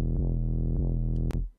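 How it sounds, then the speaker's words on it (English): An 808 bass sample played from a sampler in an electronic track flip: deep, booming sustained bass notes with rhythmic retriggers, ending in a short click and fade, with no talking. "put an 808 sample into the sampler and played the bass line again"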